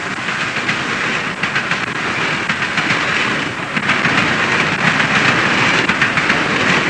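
A train runs past on a railway line, a steady loud rumble with rattling wheel clatter that swells slightly in the second half, with no voices.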